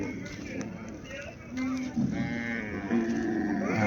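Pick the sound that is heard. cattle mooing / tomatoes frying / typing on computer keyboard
cattle mooing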